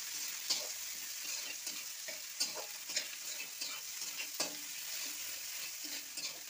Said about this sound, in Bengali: আর এই যে কাঁচা পাকা লঙ্কা দিয়ে এটাও আমি ভালো করে একটু নেড়ে নেব।